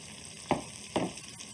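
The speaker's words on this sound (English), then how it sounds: "The tomato puree goes in now," Tomato puree hitting a hot pan gives two short, loud sizzling bursts about half a second apart, with faint frying crackle in between and no voices.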